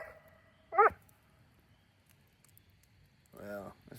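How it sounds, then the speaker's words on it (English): Dog in a house, two short yelps or whimpering bark-like sounds separated by a quiet pause, close but fairly soft against a faint background. "that dog's crazy as a June bug"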